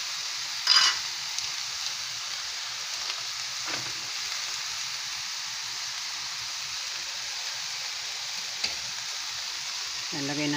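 Lumpia filling fries in a pan with oyster sauce, giving a steady, fairly quiet sizzle, with a few scraping stirs of a utensil and a faint voice in the background.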